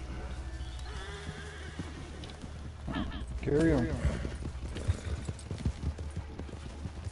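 A video game horse whinnies loudly near the middle while hooves clip-clop steadily around it, with someone talking over the game sounds.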